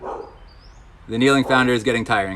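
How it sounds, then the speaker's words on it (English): A dog barks several times in quick succession indoors, loud and close, following a quieter stretch where someone speaks. "Sorry for the dog barking"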